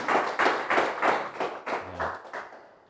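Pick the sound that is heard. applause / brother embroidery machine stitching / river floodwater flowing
applause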